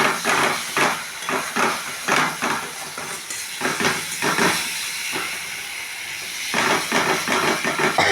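Rohu fish pieces fry in a pan for doi rui, making loud bursts of hissing sizzle that swell and fade in irregular pulses, with occasional clatter of the pan.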